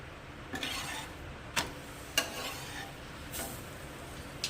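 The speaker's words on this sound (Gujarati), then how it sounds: "એની ઉપર આપણે ઓઇલ લગાવી લઈશું." Paratha on a hot griddle as oil is spread over it, a low steady sizzle broken by four or five sharp scraping clinks of a spoon or spatula, quiet and close.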